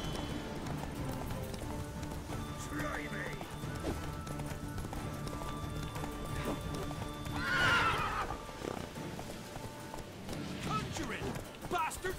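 In The Witcher 3, a horse gallops with steady clip-clop hoofbeats and gives a loud neigh partway through, over game background sound with faint voices.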